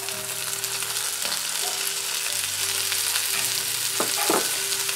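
Onions and frozen peas fry together in a pan, giving a continuous close sizzle with a few short stirring scrapes toward the end.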